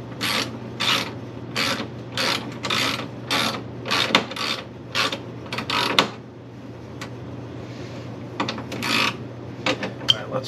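Wrench ratcheting on a bolt at the radiator core support of a 1976 C3 Corvette Stingray, a close series of quick rasping clicks in bursts with short pauses, a steady hum underneath and no talk.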